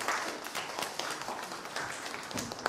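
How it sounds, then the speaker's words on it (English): A kids' jazz festival audience claps for itself, lively scattered applause with individual claps standing out, fairly close and steady for a couple of seconds. "Give yourselves a round of applause."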